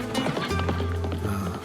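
Galloping horse hooves in a fast, steady rhythmic clatter, loud and close, with no voices over them.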